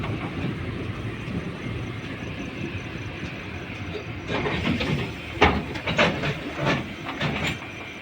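The SMT Bangalore City Express runs at speed with a steady rumble and rushing hiss, and a run of sharp rhythmic clacks from the wheels over rail joints comes in during the second half.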